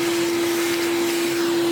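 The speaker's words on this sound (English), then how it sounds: "So if you have some sort of hoover brush, just hoover the inside," A vacuum cleaner with a brush attachment runs loud and close, hoovering dust off plastic kit pieces with a steady motor whine and airflow hiss.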